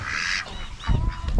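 Farm ducks on a homestead give a few loud, close honking quacks in quick succession with no talking.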